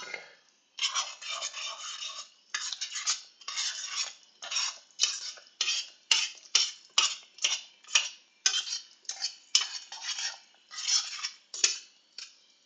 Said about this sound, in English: Stir this around real quick.